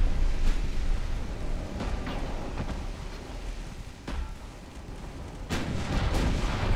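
Naval gunfire in the warship battle game Ultimate Admiral Dreadnoughts, heard as a dense, continuous rumble of distant cannon booms with a few sharper blasts standing out, loud and steady throughout.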